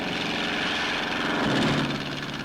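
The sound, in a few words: civilian patrol airplane taking off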